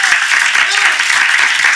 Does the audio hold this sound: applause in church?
yes